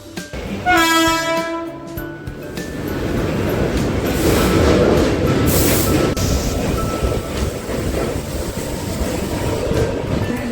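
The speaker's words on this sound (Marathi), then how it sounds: "गोरेगाव ट्रेन लागले हार्बरला वरती" A Mumbai Harbour line train horn blares near the start at Goregaon, then the train rumbles past with a steady roar and clatter of wheels on the track.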